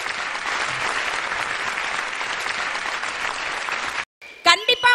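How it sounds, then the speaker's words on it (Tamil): An audience at a Tamil debate show (pattimandram) about the coronavirus claps vigorously in a dense, steady round of applause for about four seconds; it cuts off abruptly, followed by a brief gap and then a voice speaking. "அதுக்காக நல்லா கைத்தட்டு."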